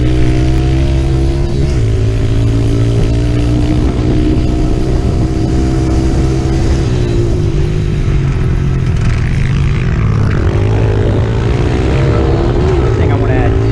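A pit bike being ridden, its small engine buzzing loud and steady with a constant drone and slight pitch shifts, wind noise mixed in throughout.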